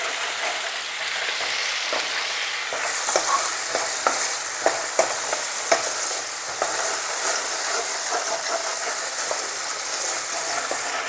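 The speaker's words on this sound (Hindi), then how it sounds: "प्याज को भूनते वक्त थोड़ी थोड़ी देर में इसके तलवे को भी अच्छी तरह से खुरच दिया करें" Chopped onions, ginger and garlic frying in oil in a pan for langar-style dal, with a steady sizzle and repeated scraping clicks of a spoon stirring against the bottom, close and continuous with no talk.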